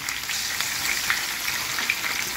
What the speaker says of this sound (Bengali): এখানে যে কড়াইটা তেল গরম করছি এতে আমি বেগুন ছেড়ে দিচ্ছি।